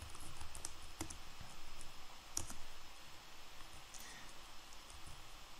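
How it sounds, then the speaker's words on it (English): Soft, steady typing on a computer keyboard, with scattered quiet key clicks and a couple of sharper taps, heard alone and fairly faint at close range. "And then you type the code"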